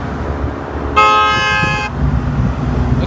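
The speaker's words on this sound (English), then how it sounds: "I'm getting a lot of cars honking the horn." A car horn blasts once on an I-10 highway for a little under a second, loud and close, standing out over a steady rumble of passing traffic.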